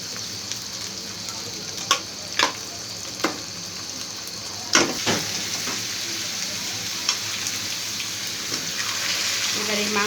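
Marinated mutton lands in a pan of cooked spiced masala and sizzles loudly. The frying hiss is steady, broken by several sharp clacks and scrapes of a spoon stirring.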